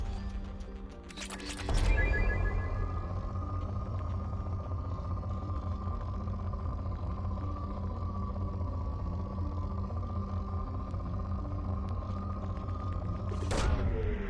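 A probe launches in the Mass Effect 2 video game: a sharp burst opens into a steady, loud mechanical hum that holds for several seconds, then ends in a second sharp burst.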